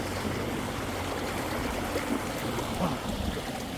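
Water rushes steadily through a full pipe of a fish trap set in a waterway, a continuous close, moderately loud flowing gurgle without speech.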